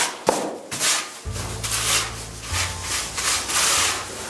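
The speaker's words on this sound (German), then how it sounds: "wenn ich jetzt das so reibe mit so einem Schwammbrett wie da" A sponge float rubs across clay plaster in a series of rhythmic, gritty swishing strokes, close and moderately loud, with a faint low hum underneath partway through.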